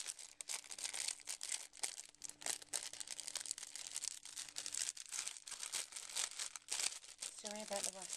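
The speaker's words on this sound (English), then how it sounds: "Sorry about the rustling." Crinkly paper packaging rustles and crumples continuously and close up, with brief tearing-like crackles, while someone talks quietly in the background.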